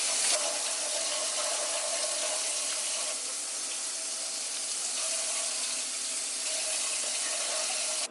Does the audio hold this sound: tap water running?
yes